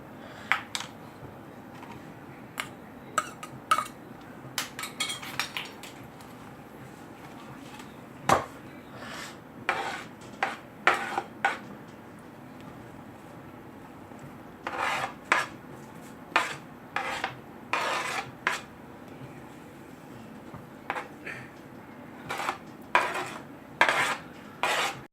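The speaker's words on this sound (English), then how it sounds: "Now add all the ingredients to the mixture." Spoon clinking and scraping in a bowl while mixing vada batter with onion, coriander leaves, crushed pepper, ginger garlic paste and salt, with repeated irregular metallic taps and rubs heard close and alone.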